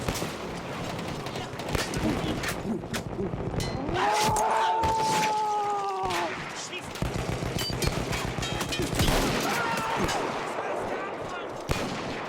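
A mounted gun firing in a Battlefield 1 World War I battle, a steady stream of loud shots and booming artillery mixed with engine noise and a rising whine, while someone talks intermittently over the din.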